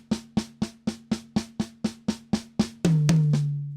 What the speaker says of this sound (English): we play diddles on the snare, and put the paras or the singles on toms.